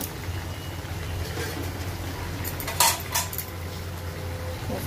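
Chicken for rezala sautéing in a pan, a low steady sizzle with a constant hum beneath it and a couple of sharp metallic scrapes and clinks of a spoon against the pan.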